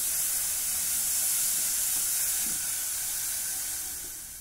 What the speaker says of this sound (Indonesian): Nah, ini sudah halus, kemudian kita langsung tumis.